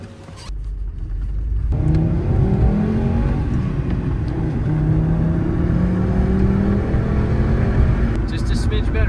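Cheap $1000 economy car engine fired up and revving steadily, a loud continuous drone with rising and falling pitch sweeps, a voice talking over it throughout.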